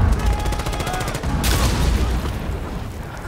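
A frag grenade goes off in Rainbow Six Siege: a loud close blast erupts after a brief stretch of rapid gunfire and leaves a rumbling, noisy tail that slowly fades.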